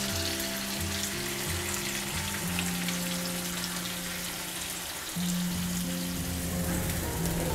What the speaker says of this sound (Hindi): अब इसमें हम पिसा हुआ पेस्ट डालेंगे और धीमी आंच पर तेल अलग होने तक भूनेंगे